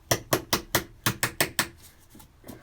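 About seven sharp metallic hammer taps in quick succession, then a couple of fainter ones, knocking a clip back into place on a BMW 318 diesel during a fuel filter replacement; close and clear.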